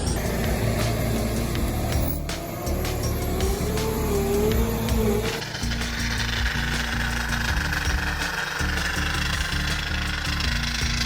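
A Cat tree cutter stuck in a swamp roars under heavy load, its diesel engine loud and close with rough knocking and clattering, shifting tone partway through as it strains in the mud.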